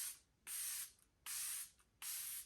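One Size setting spray misted in three separate bursts, each a loud airy hiss lasting about half a second with quiet gaps between, close to the mic and with no talking.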